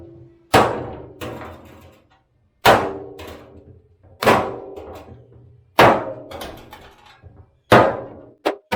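Hammer blows beat dents out of the sheet metal of a mini hoe, five sharp metallic clangs spaced a second or two apart, each ringing briefly before fading, close and loud with no talk.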